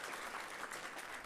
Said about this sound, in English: Will you guys please give Jerry a round of applause for coming up here and chatting?